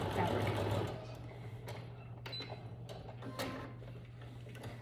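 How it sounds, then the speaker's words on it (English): A sewing machine stitching rows of shirring on fabric, a steady fast mechanical whirr and ticking that runs loud at first then continues more quietly, with a constant low hum beneath. "I don't wanna sew over any rows,"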